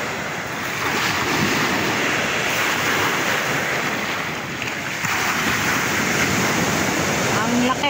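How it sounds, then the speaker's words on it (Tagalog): Big sea waves surge and break in a continuous loud roar, with wind buffeting the microphone and a brief lull midway before the surf swells again. "malaki nga po ang naging alon"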